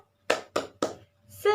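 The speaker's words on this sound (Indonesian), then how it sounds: "kita tepuk semangat dulu yuk" Children perform a rhythmic spirit clap in a classroom, three sharp bursts of clapping spaced evenly, then a louder final burst with voices joining in.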